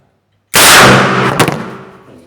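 A homemade bird-scaring bazooka cannon, charged with gas and fired by pressing a trigger, gives one loud, close blast that cuts in sharply after silence and then decays through a long echoing tail with a second thump.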